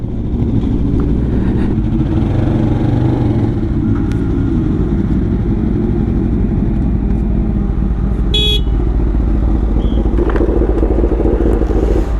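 Loud, steady rumble of powerful motorbike engines running nearby, with traffic noise throughout and a brief horn toot partway through.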